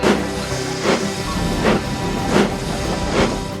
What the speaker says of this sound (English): This is a special train of vans filled with boxes of fish, which goes to markets in London and other places in the mainland.